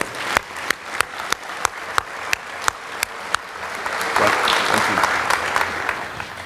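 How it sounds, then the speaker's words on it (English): Audience applause for a guest chef at a cooking school's end-of-year celebration, beginning with a few distinct loud claps in steady rhythm, then swelling into broader crowd clapping. "So a round of applause for Chef O'Neill"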